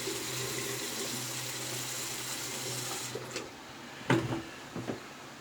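Water runs steadily from a tap while a razor is rinsed, a smooth close hiss that cuts off after a few seconds and is followed by a couple of light knocks and splashes.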